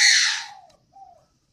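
A young spotted dove is being syringe-fed and gives a loud, harsh squawking call close up, fading over about half a second. A shorter, softer squeak follows, then silence.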